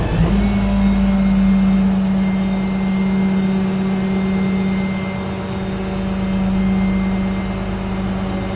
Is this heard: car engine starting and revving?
yes